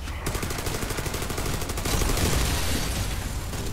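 Rapid automatic gunfire aimed at a turret in a co-op shooter set in Pripyat, a fast steady stream of shots close by and loud, continuing without pause throughout.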